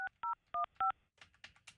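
A phone number is dialed on a keypad: four crisp touch-tone beeps in an even rhythm, followed by faint clicks and rustling.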